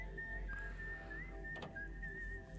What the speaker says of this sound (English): I love this whistle.